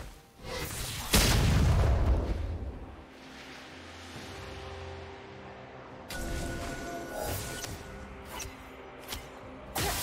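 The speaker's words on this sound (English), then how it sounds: "Red team's turret has been destroyed." A turret being destroyed in League of Legends during a mid-lane Ahri versus Yasuo match: a loud, close boom at about one second, then a low rumbling decay, followed by busier game sound effects with sharp crackles and short bursts.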